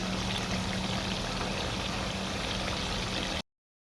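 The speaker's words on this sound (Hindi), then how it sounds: "इसमें थोड़ा थोड़ा पानी ऐड करके हम इसको भूनते जाएंगे।" Water pours in a steady stream into a pan of mutton korma being fried, a continuous hissing splash that stays even for over three seconds and then stops abruptly.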